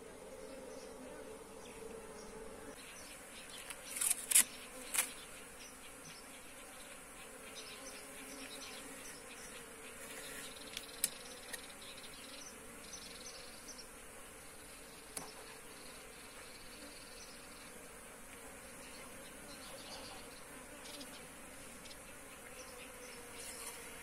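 A flying honeybee swarm being captured hums continuously, a dense steady buzz with occasional sharper close passes and clicks, no speech.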